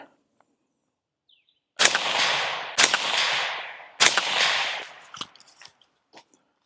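Three sharp, loud suppressed gunshots ring out about a second apart at an outdoor range, each one fading in a short tail of echo. A few faint clicks and handling noises follow.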